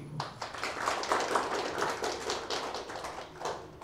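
A small gathering of about thirty people claps together at a community programme, a dense patter of hand claps that stays fairly faint and steady for a few seconds.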